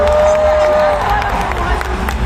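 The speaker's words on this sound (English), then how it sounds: "a big round of applause" A crowd at a TWICE fan meet game claps and cheers loudly and continuously, with excited voices mixed into the applause.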